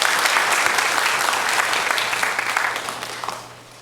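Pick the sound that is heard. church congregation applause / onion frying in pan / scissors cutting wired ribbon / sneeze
church congregation applause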